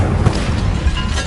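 An Incendio fire spell cast in the video game Hogwarts Legacy, a short, loud whooshing burst with a low boomy rumble lasting about a second.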